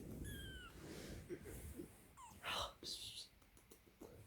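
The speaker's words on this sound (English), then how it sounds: "This one's meowing" A kitten meows softly a few times indoors, quiet and close, while people whisper and talk over it.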